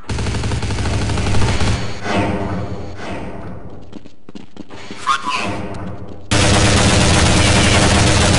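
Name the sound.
gunfire in the video game Counter-Strike 1.6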